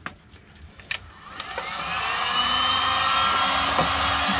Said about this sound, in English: So now all I have to do is take the heat gun.